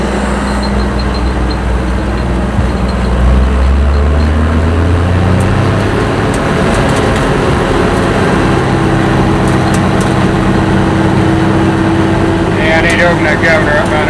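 A combine harvester engine with a Hart Carter floating cutter bar runs loud and steady up close as the governor is opened up, a constant heavy mechanical drone with talk over it.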